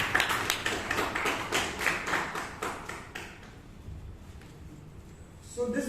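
A roomful of Toastmasters in Bangalore claps steadily for the table topics master, the close, crisp applause thinning out after about three seconds into near silence before a brief sound at the end.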